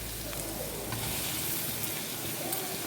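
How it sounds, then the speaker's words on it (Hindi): Fried soybeans tipped into a pan of softened sautéed onions, giving a steady, close sizzle with a faint rustle of stirring throughout, moderately loud with no talk. "अब हम इसमें डालेंगे फ्राई किए हुए सोयाबीन।"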